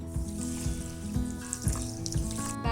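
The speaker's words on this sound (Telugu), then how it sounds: "ఇందులో 1 కప్ వాటర్ వేయాలి" Water is poured from a cup into two cups of sugar in a cooking pan to make syrup, a continuous splashing run of water with small irregular knocks and bubbling, close by and with no talk.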